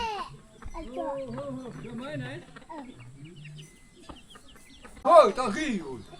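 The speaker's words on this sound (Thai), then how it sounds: "ไก่มันกินเซลอยู่พี่น้องเนาะ" Chickens cluck and crow at a rural Thai village home, their calls rising and falling over several seconds, with a louder burst near the end, mixed with nearby talk.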